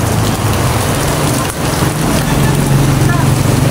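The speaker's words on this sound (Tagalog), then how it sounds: "Kumakalma tapos ulan na naman." Steady rain falling outdoors, a dense even hiss of drops holding at a loud constant level for the whole stretch, with no voices over it.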